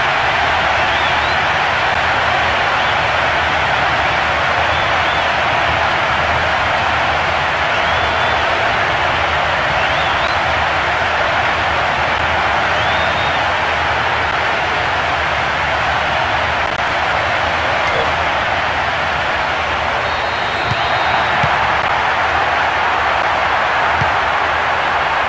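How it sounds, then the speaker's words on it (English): Steady, dense roar of an impatient stadium crowd at a Fenerbahce vs Galatasaray match in PES 2018, continuous and loud throughout with no clear breaks. "Crowd starting to get impatient now."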